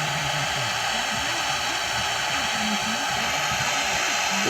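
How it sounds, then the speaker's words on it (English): A propane torch heats a seized bolt on the strut mount of a 1998 Cavalier Z24 hub assembly, producing a close, constant roaring hiss with a faint voice underneath. "So take the propane, just let it sit for a little bit with the heat on it."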